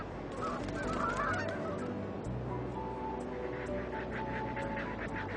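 Aleutian Canada geese honking on a remote Alaskan island, a loose chorus of repeated calls from several birds, fairly close and steady, with no voices.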